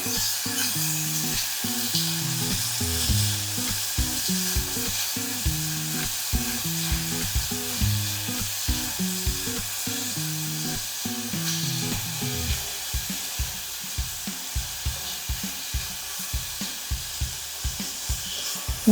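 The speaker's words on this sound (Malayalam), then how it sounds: "തീ സിമ്മിലിട്ടിട്ട് ചെറുതായിട്ട് വഴണ്ട് വരട്ടെ" Finely chopped shallots sautéing in a pan on a low simmering flame for a Kerala squid fry, a continuous even sizzle with rhythmic ticking stirs and scrapes throughout, close and steady, no speech.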